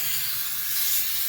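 A steady, broad hiss of aerosol adhesive spray on the center console trim of a 1982 Mercedes 240D runs without a break, bright and close, with a faint low hum underneath.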